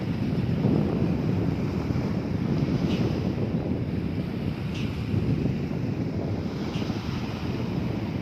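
Sea waves roll and wind gusts steadily at a beach beside a road in Songkhla, Thailand, where small boats come ashore. The broad, continuous roar is close and loud, with occasional faint higher tones and no talking.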